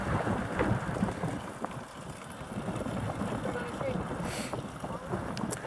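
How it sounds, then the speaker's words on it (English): Strong wind gusting across an outdoor homestead courtyard near a blackberry trellis, a steady rumbling buffet on the microphone with fluctuating loudness throughout and no clear speech over it. "The wind's really bad out here right now."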